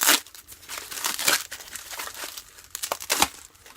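Cutting open a bushcraft subscription box package gives close crinkling and tearing of packaging in irregular bursts, with sharp rips and rustles separated by short quieter gaps.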